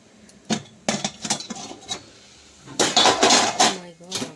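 A metal idli stand clanks and clatters against a pot of boiling water in several sharp knocks, followed by louder rattling as the stand settles into the vessel for steaming.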